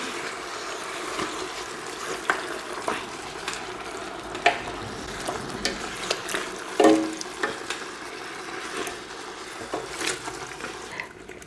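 Butter bean oxtail stew is stirred in a pot, with soft wet scraping and sloshing under a steady low simmer, heard close up and without any talking.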